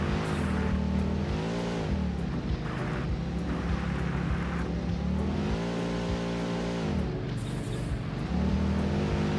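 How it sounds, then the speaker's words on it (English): A car in the factory-building game Satisfactory drives with a loud, steady engine drone whose pitch climbs and dips as it accelerates, constant and close throughout with no talk. "this car doesn't have really good acceleration when you land"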